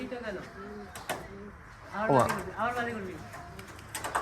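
Giribaz tumbler pigeons at a pigeon farm give soft, repeated cooing calls close by, mixed with a few sharp knocks and clatters.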